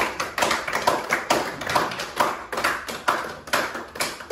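A congregation at a church service applauds in praise, with a steady patter of many hands clapping at fairly even loudness and irregular bursts and swells.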